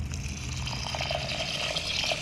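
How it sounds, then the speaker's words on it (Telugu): Water poured over soaking green gram seeds in a bowl, a soft, quiet trickle and splash heard alone. "వీటిలలో వాటర్ వేసి నైట్ అంతా నానబెట్టేయాలి"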